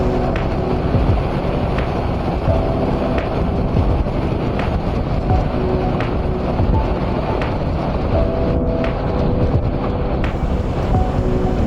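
Strong, steady wind roars across a half-face helmet with a visor on a moving motorcycle, a loud, continuous buffeting rush that lasts throughout with no break.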